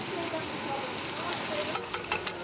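A spice mix of ground chili, cumin and white pepper is stirred into a pot of low-carb chicken tortilla soup, with a constant close sizzle and a few quick clinking stir strokes near the end.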